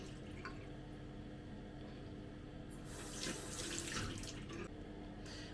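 A bathroom tap runs steadily for rinsing, a quiet continuous hiss of water that swells as hands pass through the stream.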